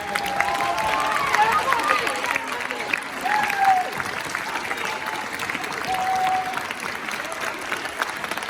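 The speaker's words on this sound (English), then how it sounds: "let's give us one more applause for all" Students and audience at a high school benefit concert break into sustained applause, with scattered cheers and whistles over the clapping and some talk underneath as it slowly tapers.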